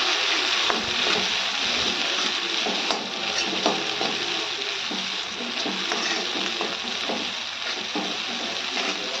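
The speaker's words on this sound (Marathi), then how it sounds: "आपण सर्व साहित्य तेलामध्ये चांगलं परतून घेणार आहे" A ground spice paste and other ingredients fry in oil for an egg curry, a steady close sizzle broken by occasional scraping as the pan is stirred, with no voices.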